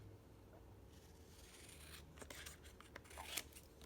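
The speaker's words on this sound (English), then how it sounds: "I think I'm going to trim down just a tiny bit" Soft, faint snips and rustling of scissors trimming paper for a layout, a few quick close cuts and paper scrapes.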